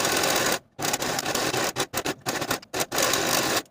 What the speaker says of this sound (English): I'm going to be using my serger to finish these outer edges.